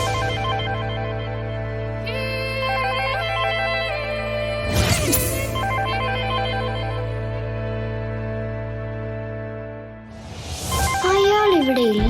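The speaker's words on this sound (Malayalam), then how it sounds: "അയാളുടെ ഫോണിൽ റിംഗ് ചെയ്യുന്നത്." A mobile phone rings with a repeating electronic ringtone melody, loud and close, sustained through the whole stretch with a brief clunk midway and a rising tone near the end; no one speaks over it.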